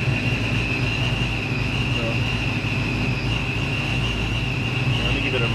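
A small block Ford V8 idles steadily at about 800 RPM with its cooling fan running, a constant close engine drone and fan whoosh holding level throughout, with no talk over it.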